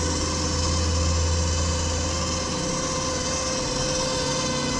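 A hybrid boat's electric motor system built with Victron components runs with a steady, unchanging hum and faint vibration, continuous throughout with no speech.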